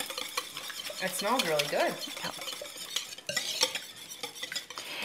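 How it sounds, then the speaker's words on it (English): Garlic pasta mixture with shrimp and vegetables stirred in a bowl, giving repeated scraping and clinking strokes of a utensil against the dish at close range, while a voice briefly speaks over the stirring. "So just mix that up well."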